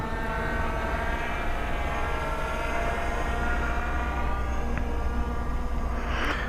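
A DeeRC D15 budget GPS drone flies slowly in tripod mode outdoors, giving off a continuous whining buzz that stays steady and fairly loud with no talk.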